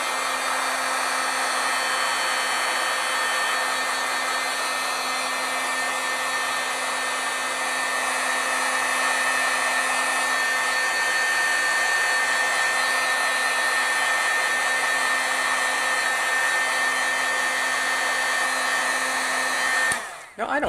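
A handheld heat tool blows steadily for about twenty seconds to heat set graphite black stamped ink, a loud even whir that cuts off abruptly at the end.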